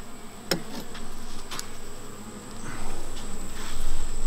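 A low, continuous buzzing of bees around hive frames, close and steady, with a faint click near the start and a constant high hum behind it.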